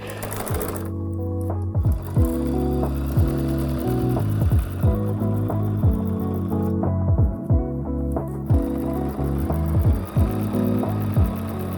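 Close, loud sewing machine stitching a quarter-inch seam on a selvage spider web quilt block, rattling in quick runs broken by brief stops and clicks.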